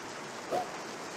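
Rain falling in a video game scene makes a steady, even hiss throughout, with one short, faint, voice-like blip in the middle.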